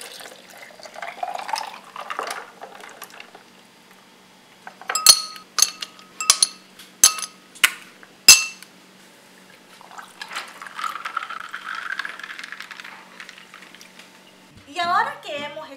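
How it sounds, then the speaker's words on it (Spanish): Fresco de cebada, a Salvadoran barley drink, poured into a pitcher over ice, giving a burst of sharp glassy clinks and splashing between stretches of softer liquid noise, with a voice at the end. "Ahora lo voy a agregar donde está el hielo."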